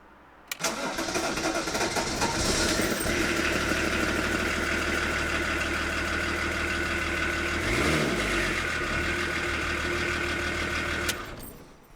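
A BMW 525 TDS diesel engine cranks and fires up, then settles into a steady, loud, close idle with a brief rev surge midway before cutting off near the end.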